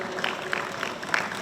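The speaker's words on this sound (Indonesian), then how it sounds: "kita berikan tepuk tangan Bapak Ibu sekalian" A seated audience at a cooperation-agreement signing ceremony between the Istiqlal Mosque management board and Perumda Pasar Jaya gives a brief, moderately distant round of applause, steady and diffuse.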